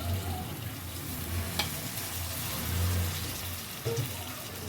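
Finely chopped potatoes fry in a pan for a brinjal-potato bhaji, a moderate, steady sizzle with soft stirring movement and a couple of light knocks, no talking.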